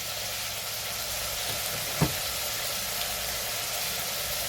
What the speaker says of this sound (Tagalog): kailangan kong gisahin ang mga panakot at yung gagataan ko